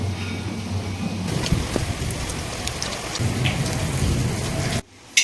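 Steady rain hisses on a surface with a low rumble beneath, ending in a sudden drop to near silence.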